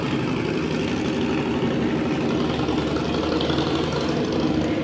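A motorcycle engine runs close by, a steady loud rumble idling with an even mechanical chug, no talk over it.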